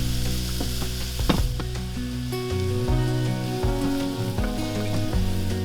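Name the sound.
onions and garlic sautéing in olive oil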